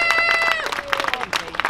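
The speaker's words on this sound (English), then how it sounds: "let's give a round of applause to the huge bravery of the postal workers" A crowd at an outdoor May Day march and rally applauds and cheers postal workers, brief clapping mixed with raised voices and a tonal shout near the start.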